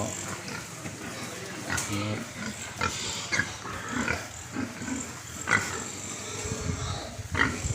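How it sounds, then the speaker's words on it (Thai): Many pigs on a crowded pig farm, including young piglets under a month old, grunt and squeal continuously nearby, with someone talking over the din. "เยอะนะครับหมูที่นี่เยอะนะครับ"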